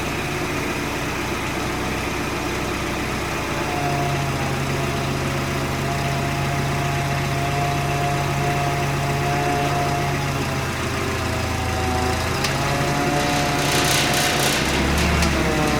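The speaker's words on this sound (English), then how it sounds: "Now we've got quite a small forklift, so it needs to be all the way up to the back." A small forklift's engine runs steadily close by as it moves a Spacebin, a continuous droning hum whose pitch shifts slightly as it works, with a brief clatter near the end.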